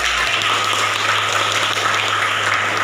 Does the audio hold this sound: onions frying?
no